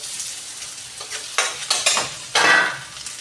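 Steak fries sizzling in a pan as they are flipped, turned and shaken, with a soft frying hiss punctuated by several sharp bursts of scraping and rattling, close and fairly loud.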